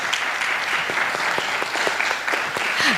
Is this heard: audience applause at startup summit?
yes